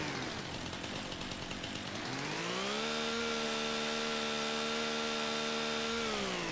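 A chainsaw in Farming Simulator 25, cutting poplar stumps with a lumberjack mod, revs up from a rough idle to a loud, steady high-pitched whine and holds it for several seconds, then starts to drop off at the end.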